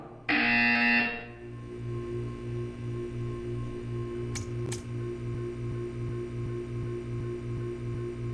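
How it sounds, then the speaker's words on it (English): Loud electronic buzzer from the Portal 2 video game, a harsh tone of about a second that cuts off, then a low pulsing hum and two faint brief chirps. "You will hear a buzzer."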